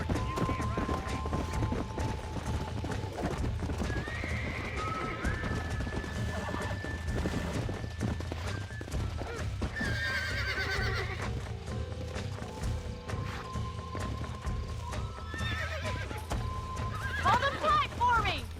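A wild horse in Red Dead Redemption neighs and whinnies repeatedly over fast clip-clop hooves and scuffling, with a voice talking throughout and several loud cries near the end.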